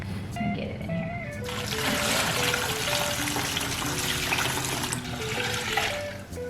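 Brine for nitrate-free bacon and ham hock streams and splashes as it is poured over meat in a container, a continuous close watery gush with music underneath.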